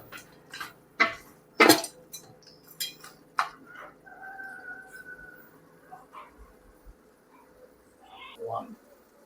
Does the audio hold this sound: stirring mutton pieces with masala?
yes